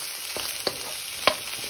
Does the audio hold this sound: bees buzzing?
no